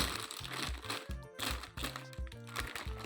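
A plastic snack bag of Zeyada Extreme is torn and opened up close, giving bursts of crinkling and rustling crunches in an irregular rhythm.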